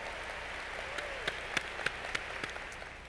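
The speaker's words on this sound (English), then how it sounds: "I'd like to give him a round of applause right now" A crowd at a graduation ceremony applauds steadily, a dense wash of clapping with a few sharper individual claps popping out above it.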